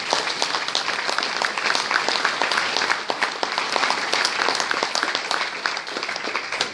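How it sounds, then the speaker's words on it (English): Audience at a season ticket holders' event applauding the team analyst: a steady, full round of clapping from many hands, even in level throughout and heard alone without talk. "He deserves a round of applause."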